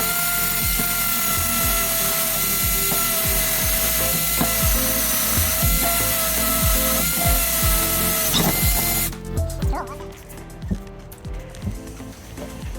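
A power drill whines steadily for several seconds with repeated ticking pulses while boring a hole in a sailboat pedestal, then cuts out, leaving quieter rattling and handling noises.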